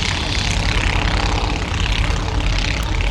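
The vintage B.A. Swallow 2 aircraft at an air show gives a loud, close, continuous engine drone with propeller roar throughout.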